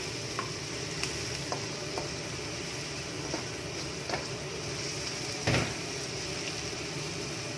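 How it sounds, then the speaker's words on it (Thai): Ingredients for a neem chili paste sizzle steadily in a hot pan, a dense continuous frying hiss broken by occasional light scrapes and taps of a spatula stirring. "เนี่ยเราก็จะรวนไปเรื่อยๆผัดไปเรื่อย ๆเจียวไปเรื่อยๆนะคะ"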